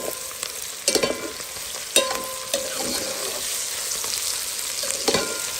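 Sausages with ginger sizzle in a hot pan as a utensil stirs them, a steady fry hiss broken by several sharp scrapes and clacks, close and alone with no talk.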